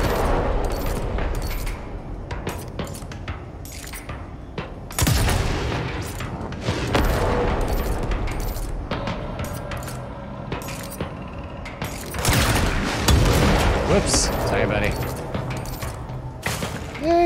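Rockets firing in the retro-style game Control 39 (Polaris), with repeated loud blasts and crackling explosions in a busy, chaotic mix, a person talking over the action at times.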